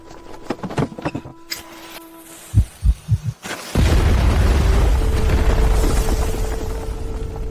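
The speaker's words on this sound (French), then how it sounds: "utilise de la poudre à canon pour faire sauter cet endroit" Gunpowder blasts open a blocked door in a historical drama: a few sharp knocks and thuds, then a loud, sustained roaring explosion that rumbles on for several seconds.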